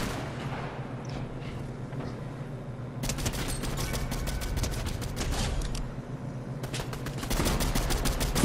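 Gunfire from a video game, including a shotgun, comes in dense bursts of rapid cracking shots over a steady low rumble, with quieter stretches between volleys.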